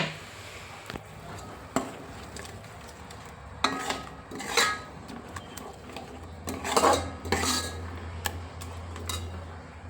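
Ground cashew and almond paste is stirred in ghee in a pot, with irregular scraping and clinking of a spoon against metal over a faint, low sizzle.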